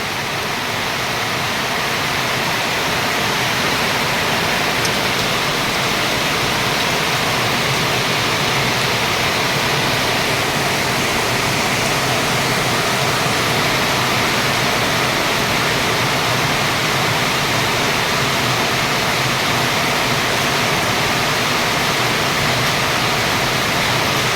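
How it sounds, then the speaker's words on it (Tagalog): Heavy rain pours steadily and loudly, a dense unbroken hiss with no pauses throughout. "Grabe, lakas ng ulan."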